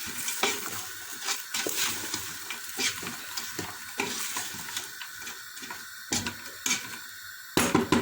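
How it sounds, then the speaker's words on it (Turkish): Bulgur being stirred in a cooking pot, with repeated scraping and tapping strokes over a steady sizzling hiss, close and moderately loud, with no talking. "Ben şöyle iyice karıştırayım."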